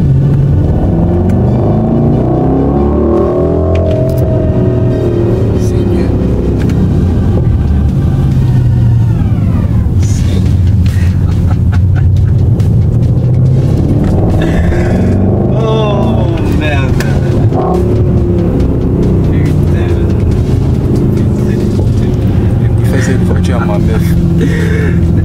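A 2022 Mercedes-AMG GLE 63 S with 600 horsepower rumbles loudly and continuously from inside the cabin, revs rising and falling in long sweeps, while people talk excitedly over the engine.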